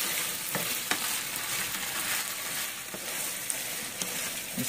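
A spoon scrapes and stirs thick marinara sauce in a hot pan for stuffed pasta shells, a steady wet sizzle broken by a few sharp clinks against the metal, close and continuous with no voices.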